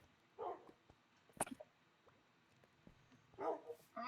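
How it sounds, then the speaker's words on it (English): A dog in a Minecraft game barks a few short, faint times, spaced apart, against a quiet background with no talking. "Oh, my dog's here?"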